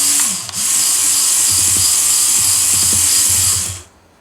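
The small electric motor of a Micro Steel World RC Bobcat whines steadily and close up as its modified bucket is lowered, with light clicking and ratcheting ticks over about four seconds before it cuts off.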